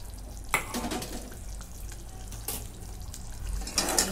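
Half-cooked chicken for biryani being stirred with mint, coriander and fried onion, giving a soft wet sizzle with a few sharp spoon scrapes and clinks against the pot.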